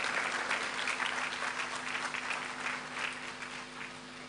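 Continuous, even applause from a seated audience welcomes a CEO to the podium at an onboarding and matriculation ceremony, heard at moderate distance and tapering off slightly.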